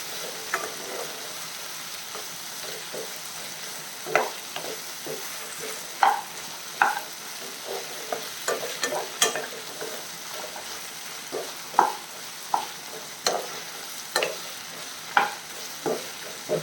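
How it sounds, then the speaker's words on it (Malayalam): Pepper chicken with crushed pepper frying in a pan, a constant soft sizzle broken by repeated scraping and tapping strokes of a spoon stirring the pieces, close up with no voices. "പൗഡർ എല്ലായിടത്തും തുരളാൻ വേണ്ടിയാണ് ഇങ്ങനെ ഇളക്കി കൊടുക്കുന്നത്"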